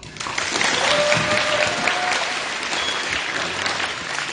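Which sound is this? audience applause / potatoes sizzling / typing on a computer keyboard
audience applause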